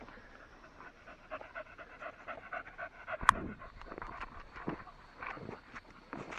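A dog pants rapidly and steadily nearby, with a sharp click and some shuffling movement partway through.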